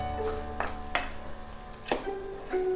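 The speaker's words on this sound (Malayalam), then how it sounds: "നമുക്ക് നല്ലതായിട്ട് റോസ്റ്റ് ചെയ്തെടുക്കണം. അപ്പം ഇടയ്ക്കിടയ്ക്ക് നല്ലതായിട്ട് ഇളക്കി." Kerala-style beef roast frying in masala in a pan, with a steady low sizzle and a few distinct scraping stirs of a spoon at irregular intervals, close up with no talking.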